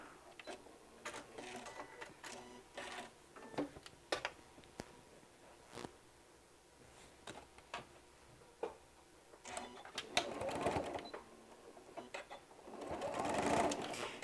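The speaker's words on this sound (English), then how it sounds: "We're going to back stitch here." A sewing machine back stitches a seam on a bottle bag holder, its needle ticking in quick close bursts with brief pauses, swelling louder near the end as the stitching continues without any voices.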